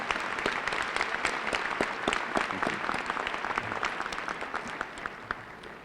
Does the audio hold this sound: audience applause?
yes